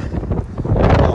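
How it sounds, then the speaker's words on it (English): Strong outdoor wind gusts hit the microphone in a short, loud rumbling burst that swells toward the end. "Man, it's windy out too."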